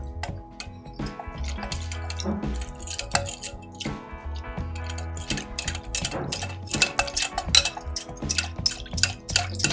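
A spoon stirs sugar into a cup of water for Karachi halwa, with irregular metallic clinks and scrapes against a vessel, wet swishing and drips, close and fairly loud, no talking.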